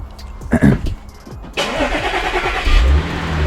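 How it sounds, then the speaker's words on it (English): An Audi S4 salvage car is cold started, the starter cranking briefly before the engine catches with a loud rev and settles into a fast idle, close by. "Give it a cold start."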